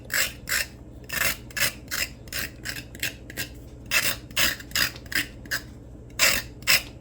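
A knife scraping the skin off a carrot in a kitchen, about fifteen quick rasping strokes in an uneven rhythm, close and clear with no talking.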